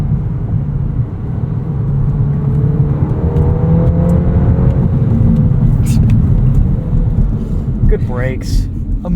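A manual 2023 Volkswagen Golf R 20th Anniversary Edition driving, its engine a steady low rumble and whir with a slight rise in pitch, heard from inside the cabin under talk.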